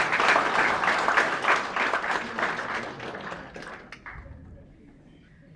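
A lecture-hall audience at a student felicitation ceremony breaks into brisk applause that gradually thins and fades out over several seconds.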